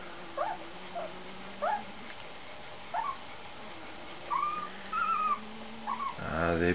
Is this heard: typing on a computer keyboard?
no